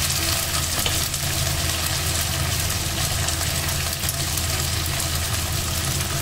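Masala with ginger paste fries and is stirred in a pan in a home kitchen, giving a steady, dense sizzle close to the listener. Faint scraping sounds run under the constant hiss, and no one speaks.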